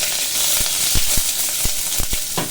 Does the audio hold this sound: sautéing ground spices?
yes